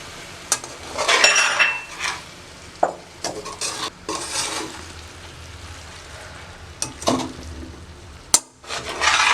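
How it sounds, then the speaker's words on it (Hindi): Okra stirred with spices in a pan for bhindi do pyaza, with a soft sizzle under scraping and clinking spoon strokes against the pan and a few sharper knocks, close and without talk. "भिंडी को अच्छे से मिक्स कर लेंगे मसाले के साथ।"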